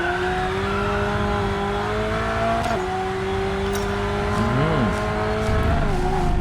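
An Alfa Romeo 4C in the racing game Racing Master corners left and right, its engine droning steadily with shifting revs and a brief rising and falling warble, under faint tire noise.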